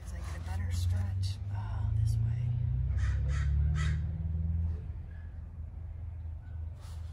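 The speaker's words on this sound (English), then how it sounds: "My friends, the crows." Several crows caw in a series of calls at moderate distance over a steady low rumble of background traffic.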